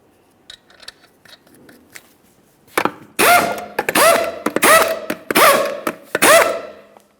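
Five 21 mm lug nuts threaded onto the rear wheel of a 2003-2011 Mercury Grand Marquis and snugged up, a run of loud close metallic ratcheting clicks and clunks after soft handling sounds.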